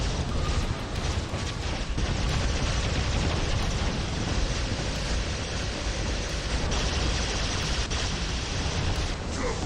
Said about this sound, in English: oh, there's his cannon